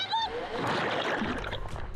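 Sea waves crash and splash over people catching lobsters off Happy Island, Catanduanes, a brief loud wash of spray with an excited high voice cry at the start.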